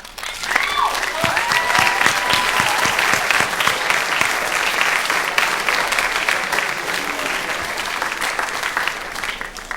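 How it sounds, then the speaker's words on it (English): Students at a senior awards assembly applaud their parents, a broad, sustained wash of many hands clapping that fills the hall steadily from start to finish. "Students, would you please turn and applaud your parents?"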